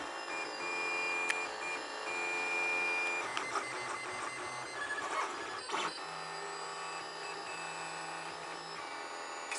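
A 3D printer prints duckhouse brackets from filament, a steady close motor whine with shifting stepper tones and faint clicks running continuously, no voices.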